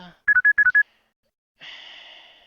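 A phone notification in the video game Devil's Door: a quick run of five bright electronic beeps, then a pause and a sustained, steady chime tone, clear and alone.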